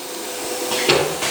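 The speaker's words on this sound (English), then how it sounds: "The machine will go to load the panels" An automatic labeling and loading machine moves panels onto a vacuum table, producing a loud, steady mechanical whoosh and hum with small shifts in pitch as the load cycle runs.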